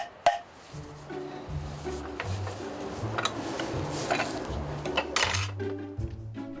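A handmade wooden moktak being tapped while its tone is tested and adjusted, a series of hollow knocks with a faint ringing quality, quiet and close, no talk.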